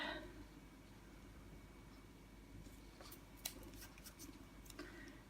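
Scissors trim the side of a laminated pop-in pocket insert for a Cocoa Daisy planner, giving a few soft, close snips over a low steady background hum.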